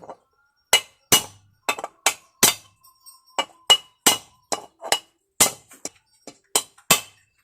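Sharp metallic hammer blows strike engine parts into place repeatedly at an irregular pace, each hit ringing briefly, with no talking in between.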